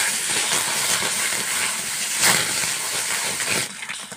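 Raw mango pulp hitting hot fried sugar with black and white mustard seeds in a pan, a steady loud sizzle and hiss that continues for several seconds without speech.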